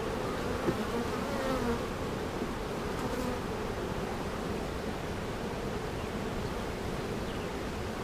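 A honey bee colony buzzes steadily around hive frames during an inspection, a dense, continuous drone close by that holds an even level throughout with no talking.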